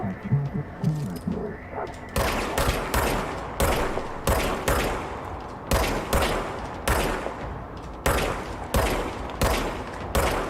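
Repeated bursts of gunfire from the service weapon in the video game Control, loud rapid volleys separated by short pauses, with a quieter stretch of game sound at the start.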